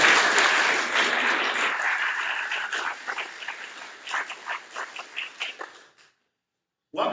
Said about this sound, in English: It is quite customary here when we have music as gorgeous as that we applaud.